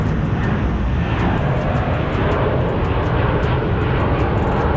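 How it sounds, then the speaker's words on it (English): Airplane passing overhead in Las Vegas, a loud, continuous engine roar with a broad rushing drone that stays strong throughout, with no talking. "there's another plane"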